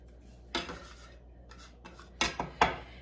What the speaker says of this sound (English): Now I'm going to take my bench scraper and I'm going to cut this in half first.